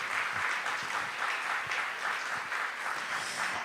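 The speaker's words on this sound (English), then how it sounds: "Please give them another big round of applause." An audience at the 2025 Busan Global Partnership Forum plenary session applauding: dense, sustained clapping from a large crowd, steady for several seconds with no speech over it.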